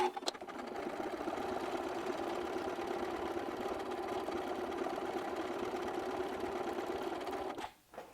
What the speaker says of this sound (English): so I'm going to go to the machine, select a decorative stitch, just stitch down the center a bit there